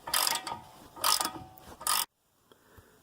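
A socket wrench with a deep well socket ratchets on tight, Loctite-treated front brake caliper bolts of a 2014 Chevy Cruze Diesel, three close bursts of rapid clicking followed by near silence.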